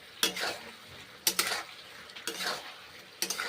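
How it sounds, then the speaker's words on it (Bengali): Cauliflower and mushroom curry cooking in a pan, with four distinct bursts of metal utensil scraping and clinking against the pan as it is stirred, each followed by a soft sizzle, spaced about a second apart. "তরকারি ফুলকপি মাশরুম তরকারি রান্না করছি"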